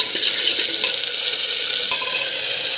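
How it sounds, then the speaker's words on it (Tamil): Tomato sautéing in hot oil with onion and ginger-garlic paste, a loud, continuous close sizzle with faint stirring underneath and no talk. "டொமாட்டோ ஆட் பண்ணி நல்லா வந்து வதக்கிட்டுக்கோங்க."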